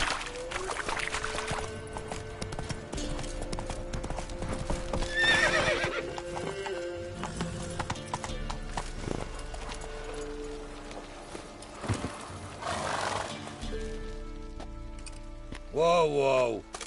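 Horse hooves clip-clop at a trot in The Witcher 3 over a continuous game soundscape, with a whinny near the end; the hoofbeats are steady and close, and voices talk during the ride.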